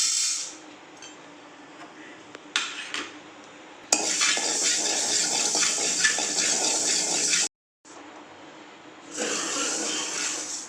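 Fenugreek seeds dry-roast in a pan for sambar powder, a soft rattling hiss with scraping stirs of a spoon against the metal, coming in bursts with brief quiet gaps.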